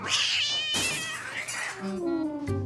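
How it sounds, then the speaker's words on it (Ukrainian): A ginger house cat lets out loud, drawn-out meows and caterwauls in a row, close by and indoors, with some pitch sweeps and no speech over it. "Але в принципі гарнюсінький котик."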